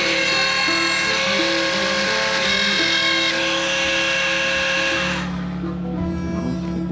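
A Dremel rotary tool carving and burning wood runs as a steady, loud high whine with shifting pitch, grinding continuously close by and easing slightly near the end.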